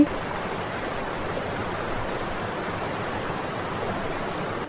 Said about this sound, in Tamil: என்ன ஏதோ தண்ணி ஓடுற சத்தம் கேக்குதே.